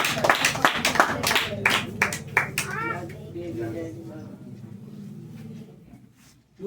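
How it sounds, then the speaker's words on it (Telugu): Family members clapping their hands together at a home gathering, a burst of sharp, uneven claps over the first few seconds, with talking alongside, then fading into quieter voices. "చప్పట్లు కొట్టండి ఫ్యామిలీ."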